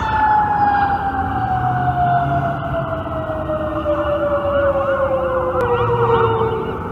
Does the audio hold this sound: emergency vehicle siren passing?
yes